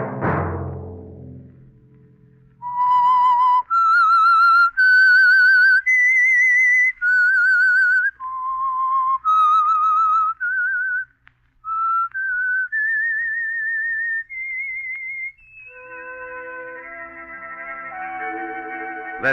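A clear, bright whistled melody plays alone, moving through a series of sustained notes after a brief low sound at the start.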